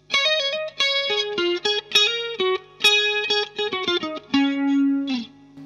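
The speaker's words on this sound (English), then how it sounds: "the CE-2 just doesn't have a bad setting" Electric guitar run through a Boss CE-2 chorus pedal, a melodic line of single notes with a shimmering, wavering chorus tone, ending on a held note; up close, no talking.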